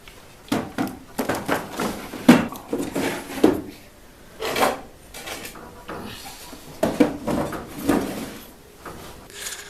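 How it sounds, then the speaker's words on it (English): Wooden workbench drawers sliding in and out on glides: repeated rumbling slides and soft thumps as they close, spaced irregularly and nearby, with no talking. "the drawers all slide really well, so much that they just glide back into place"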